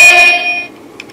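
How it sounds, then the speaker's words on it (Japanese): A DeAgostini Nissan GT-R NISMO model car sounds its horn: one short, thin, tinny electronic beep that starts loud and close, then fades, followed by a couple of faint clicks. "軽トラックのね、なんかクラクションみたいな音ですよね。"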